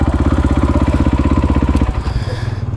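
A $25,000 supermoto motorcycle engine idles and burbles close by with a steady pulsing throb, then the rhythm shifts and settles lower as the revs drop.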